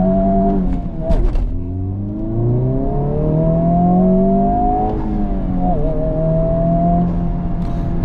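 A 2023 Honda Civic Type R making a launch start, its engine revving and climbing in pitch through the gears, loud and sustained with a brief shift dip, heard from inside the car.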